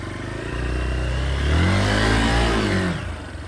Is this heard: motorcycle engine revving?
yes